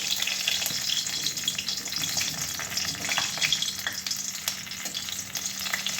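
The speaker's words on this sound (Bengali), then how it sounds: "এটা খুন্তিটা দিয়ে এইভাবে একটুখানি চেপে রেখে দেবেন" A taro leaf parcel of prawns frying in oil while a spatula presses it flat, giving a steady loud sizzle with crackles and faint scraping, close and continuous without talk.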